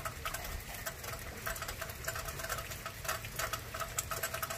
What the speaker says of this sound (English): still raining out here.